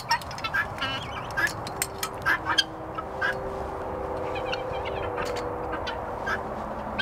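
Turkeys and other farm birds gobble and cluck in a steady chatter as they are let out of their pen on a farm, with sharp bird calls scattered over a constant background din.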